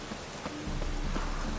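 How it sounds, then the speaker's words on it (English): A rain cloudburst in the video game The Witcher 3, a dense even patter of rain that thickens and grows louder partway through, steady and enveloping with no speech. "Real cloudburst."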